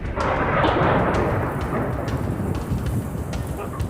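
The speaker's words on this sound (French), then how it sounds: "le son du tonnerre, complètement absorbé lui aussi par les flocons" A deep, muffled rumble of thunder during a snowstorm, dampened by falling snow, rolls on steadily, dull and subdued, with a soft broadband hiss over it and no voices.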